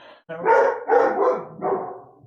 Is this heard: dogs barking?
yes